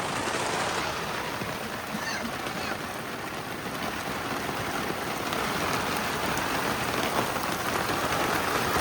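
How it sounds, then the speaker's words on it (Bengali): Steady, heavy rain pours and patters densely on a boat, a continuous loud wash of drops with no pause, in the Sundarbans. "এত পরিমাণে বৃষ্টি হচ্ছে নৌকা জল ভরে যাচ্ছে"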